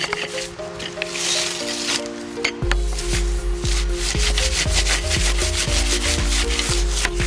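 A dirty bicycle drive chain being scrubbed with a brush while the stationary bike is pedaled forward, giving a steady, close, rhythmic rubbing and scratching with repeated mechanical clicks from the turning drivetrain and no voices.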